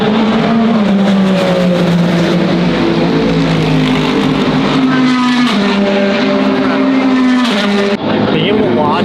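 Race cars in a live endurance race with Porsche entries roar along the track, engines loud and near, pitch climbing and dropping through gear changes, with one car's note cut off briefly toward the end.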